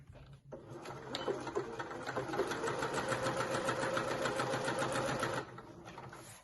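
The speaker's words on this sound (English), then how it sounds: "And I'm just going to do a line of stitching just down here." A sewing machine runs at a steady pace, stitching a line along the folded edge of a pocket on a dress skirt, with a soft start and stop around a continuous mechanical whir.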